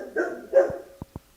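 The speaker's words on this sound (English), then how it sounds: "Murphy is barking, barking, barking." Murphy the dog barks indoors: two loud, close barks, then two short, sharp yips after a brief pause, with no voices.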